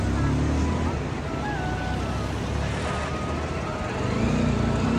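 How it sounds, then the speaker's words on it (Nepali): The Trisuli River in Nuwakot flows with a broad, constant rushing roar, heard from beside a KTM Duke 250 motorcycle ride, with faint tonal engine hum and wind mixed in. "त्रिसुली खोला है यो चाहिँ"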